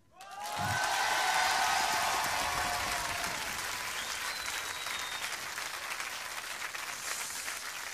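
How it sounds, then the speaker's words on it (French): Applause swells quickly from a sudden start into steady, full clapping by an audience at a televised music gathering, with a brief whistle or cheer early on and the clapping holding strong to the end. "vous pouvez l'applaudir"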